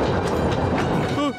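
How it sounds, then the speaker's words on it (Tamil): Cartoon train approaching in a Tamil animated forest adventure, a steady rumbling rail clatter filling the moment, with a brief rising whistle-like tone near the end. "ட்ரெயின் வருது."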